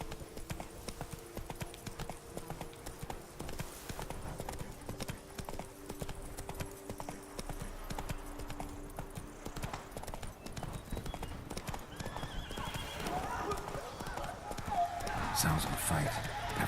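Roach, the horse in The Witcher 3, gallops with rapid rhythmic hoofbeats under game music and a voice, the clatter steady throughout and a brief whinny-like burst toward the end.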